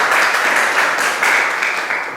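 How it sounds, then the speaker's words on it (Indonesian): Applause from a class of students fills the room in a steady, dense patter of many hands clapping together for about two seconds, with no voices standing out. "Tepuk tangan."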